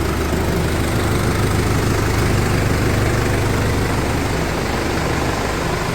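A New Holland T5070 tractor idles with a steady low diesel rumble and a constant mechanical rattle, close and loud, with no talking.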